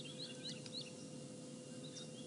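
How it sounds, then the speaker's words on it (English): A white-browed scrub robin gives a few short, faint chirps over a steady outdoor hum, with another bird calling briefly toward the end. "there would sound like a white-browed scrub robin nearby"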